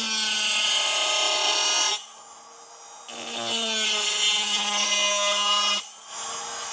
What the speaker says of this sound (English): I'm taking this deadly abrasive cut-off saw and